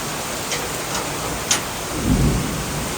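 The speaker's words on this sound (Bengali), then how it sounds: "সেই সঙ্গে আকাশে মেঘ ডাকছে" Thunder rumbles low through steady heavy rain, with a couple of sharp crackles early on and then a deeper roll toward the end, all under the constant hiss of the downpour.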